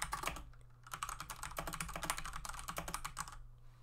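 Rapid typing on a computer keyboard, a close, dense run of clicking keystrokes in quick bursts with brief pauses between them and no speech.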